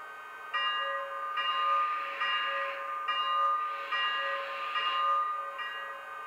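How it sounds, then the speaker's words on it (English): A Lionel Legacy EM-1 model locomotive bell ringing in a steady repeating rhythm, bright metallic tones over a soft background, no voices. "Next, here's the bell."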